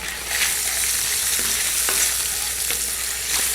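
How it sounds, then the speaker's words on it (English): Tofu chunks pan fry with ginger, giving a steady, loud, close sizzle throughout, with occasional spoon scrapes from careful stirring and no speech. "So I'm going to pan fry my tofu chunks now until they go golden coloured"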